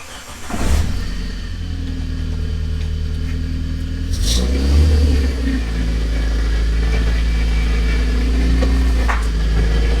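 A modified Barbie toy ride-on tracker with a bigger engine fitted runs steadily, holding a loud, close motor drone for the whole stretch and revving up sharply partway through.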